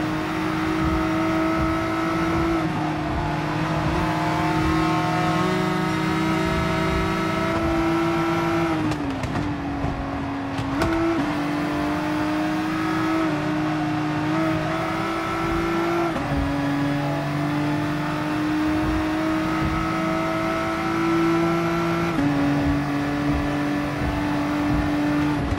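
Nissan GT-R and other race cars roaring through GT Sport, with steady high engine drone and pitch shifts at gear changes, loud and continuous for the whole stretch with no talk.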